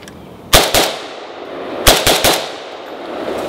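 AK rifle fired in a training session from a bladed hip stance: five sharp, loud shots in two quick bursts, two then three, with faint ambient noise between.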